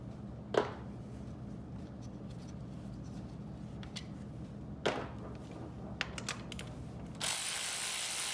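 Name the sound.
ratchet loosening 10mm bolts on Corvette C5 headers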